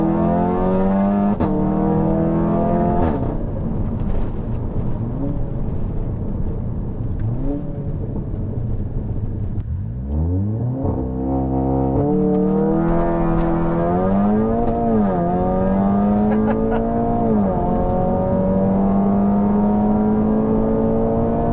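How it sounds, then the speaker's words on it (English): A tuned Stage 3 VW Golf 7R accelerates hard, its engine note climbing through several gears with rising whines and brief dips at each shift, loud and close as from inside the car, no voices over it. "That's the best part about this car, the acceleration. It just kicks you back, keeps going."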